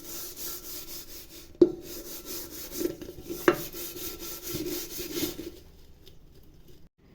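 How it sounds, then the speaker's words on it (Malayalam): A cooking pot gets scrubbed with dish soap, a close, steady rubbing and rasping with a couple of sharp knocks, fading toward the end with no talk. "ലെക്സിൻ്റെ സോപ്പ് തേക്കാൻ നമുക്ക് തേച്ച് കൊടുക്കാം."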